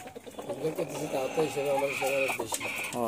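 Chickens cluck in a run of close, repeated calls, overlapping one another against a quiet background.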